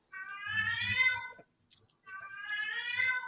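A cat gives two long, drawn-out meows, close and fairly loud, separated by a brief silent pause, with no other sounds around them.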